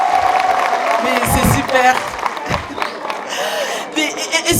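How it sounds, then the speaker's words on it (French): A studio audience at a special Women's Day show applauds and cheers loudly, dense clapping with whoops, while someone speaks excitedly over the crowd. "Mais applaudissez très très fort pour vous!"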